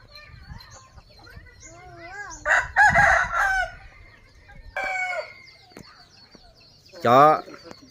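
Several roosters crow in bursts against a background of clucking and other farm fowl noise; the crows are loud and drawn out, with one near the end especially strong and close.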